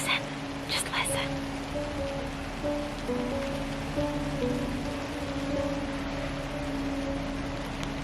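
Steady rain falls outdoors in Colorado, a dense, constant patter close by lasting throughout, with a low hum and a few faint voices or tones mixed in.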